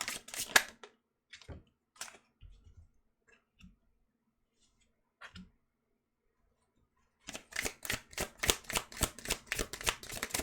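Tarot cards shuffled and pulled during a reading: a burst of quick papery riffles, scattered soft taps and card slaps with quiet gaps, then a long run of rapid rhythmic shuffling, close and crisp with no talking.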